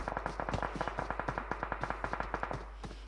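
Rapid gunfire rings out in a PUBG Mobile match as shots are aimed at a buggy, a fast, even string of sharp cracks that runs for about three seconds over a low steady hum.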